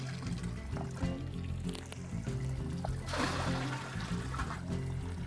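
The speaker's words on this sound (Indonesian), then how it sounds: "airnya kita buka, air keran." Faint tap water runs into buckets for mixing liquid fertilizer on a community farm, a low gushing wash that swells after a few seconds over a steady background hum.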